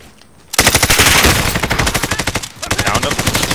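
Loud, close automatic fire in Call of Duty Warzone, a rapid even stream of rounds that begins abruptly, pauses briefly, then resumes in a steady rhythm.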